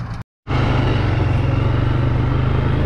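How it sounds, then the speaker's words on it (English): A four-wheeler ATV engine on a farm during soybean planting, starting after a brief dropout and then idling in a steady, close, throbbing putter. "I'm gonna actually grab the four-wheeler."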